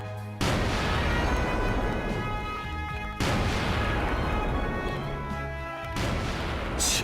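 A ceremonial artillery salute for fallen soldiers at a war victory anniversary commemoration, three loud booming cannon blasts, each followed by a long rolling echo that decays across open sky, with no voices.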